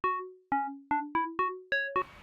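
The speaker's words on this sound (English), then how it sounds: "So that's where it really gets that kind of like deep house sound from." FM synthesizer pluck with a frequency-modulating oscillator, deep house style: seven bright, short tonal notes in a loose rhythm, each with a sharp attack and quick decay, the last one ending in a brief noisy burst, loud and close with no talk.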